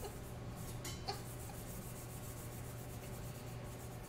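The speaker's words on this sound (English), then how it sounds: "I took some Scotch-Brite and I cleaned up my copper" Dirty copper pipe being scrubbed with a Scotch-Brite pad, a soft continuous rubbing and scraping texture with a faint clink, steady and close, no voices.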